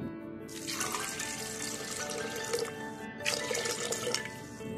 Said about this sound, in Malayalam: ഇതിലേക്ക് 1/2 കപ്പ് വെള്ളം ഒഴിച്ചു കൊടുക്കാം.